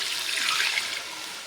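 Water is poured steadily into a pot for biryani rice, a continuous bright splashing gush that stays loud for about a second before easing slightly, with no talking.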